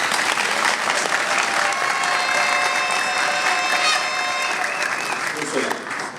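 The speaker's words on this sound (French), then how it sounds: "Et je voudrais que vous puissiez vous acclamer." An audience applauds at a diploma ceremony held by the AREP political party's school, with dense, steady clapping and some cheering that stays loud for about six seconds before easing slightly at the end.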